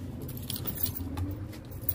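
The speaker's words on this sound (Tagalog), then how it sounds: "kuha lang ako ng susi sa ano ha" Keys jangle close by as they are fetched from a small ice cream shop, a continuous metallic rattle with a car rumbling faintly beneath.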